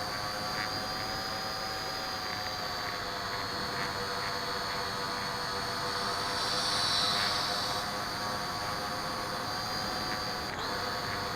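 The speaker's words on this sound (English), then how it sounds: "And that's the flight of the B17 bomber." An RC model B-17 bomber airplane with gyro stabilization drones steadily overhead at a distance of about 150 meters, a continuous engine whine that swells slightly midway, with no talking.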